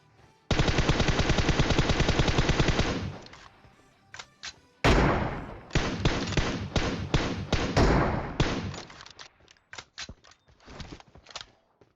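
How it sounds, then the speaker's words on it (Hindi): PUBG Mobile gunfire: a long rapid automatic burst, then a heavy shot followed by clusters of sharp single and short-burst shots, crisp and close with brief gaps between them. "और भाई अभी भी गोलियां पेल रहे हैं"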